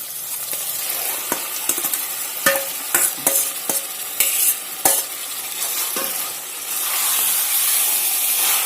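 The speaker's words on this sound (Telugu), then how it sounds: "దీంట్లో ఇప్పుడు మనం నానబెట్టుకున్న మటన్ వేద్దాం" Soaked mutton, with yogurt, hits frying onions in a pan for a Telangana-style mutton curry: a steady close sizzle broken by sharp scraping knocks as it is stirred, with the hiss swelling toward the end.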